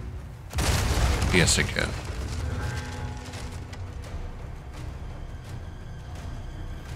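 A grenade blast in Resident Evil 4 Remake: a sudden loud boom with a rumbling tail, followed by lingering low ambience and scattered game sounds, with someone speaking briefly over it.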